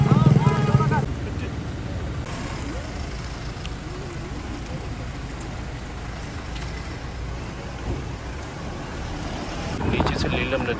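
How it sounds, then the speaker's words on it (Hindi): A mountain waterfall pours down near a small picnic spot in Jammu and Kashmir above the Neelum River, a broad steady rushing roar with wind buffeting the microphone and brief talk at the start and end. "ये झरना बह रहा है"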